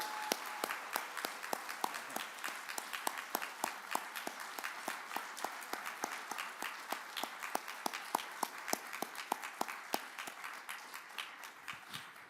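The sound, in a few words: audience applause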